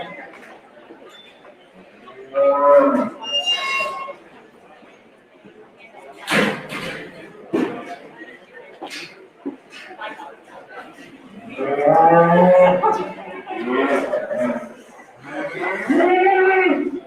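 Cattle mooing in a stock show ring during a showmanship final, a few loud lowing calls spread across the clip, with crowd chatter and scattered knocks in between.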